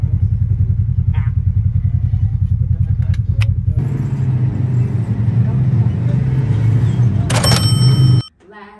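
A Polaris ATV engine rumbles loudly and steadily up close with a rough, pulsing drone, shifting in tone midway, then cutting off abruptly near the end.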